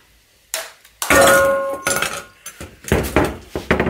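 A hammer strikes a mobile phone frozen solid in liquid nitrogen, giving a series of sharp metallic clinks and clangs, some ringing briefly, spaced irregularly over a few seconds at close range.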